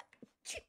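A single sharp sneeze from a person with hay fever bursts out close and loud after a few small soft sounds, set against a game in the background.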